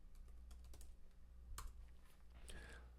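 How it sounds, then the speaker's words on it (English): Quick, light keystrokes on a computer keyboard as a website address is typed into a search bar, soft clicks in uneven bursts, faint and close with no talking. "Let's type that into the search bar and see what that does."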